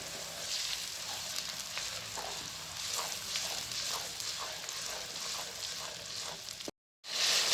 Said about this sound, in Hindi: अब हम इसमें प्याज ऐड कर देंगे। इसमें इसको हम अच्छे से भून लेंगे।